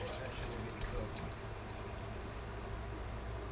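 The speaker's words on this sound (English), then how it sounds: "Oh yeah, just pouring it on in there." Liquid is poured steadily into a big pot of chicken, making a continuous soft splashing wash that stays faint and even throughout.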